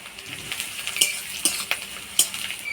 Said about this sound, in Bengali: পেঁয়াজটা ফোড়নের তেলে নাড়াচাড়া করে নিলাম, এবার দিয়ে দিব থেতো করা রসুন।